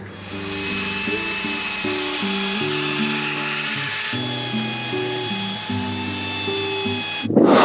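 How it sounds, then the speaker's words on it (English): A power sander works old mine wood boards, a steady whining drone with shifting pitch steps throughout, ending in a brief louder burst. "All right, so we're sanding them down, making them look pretty."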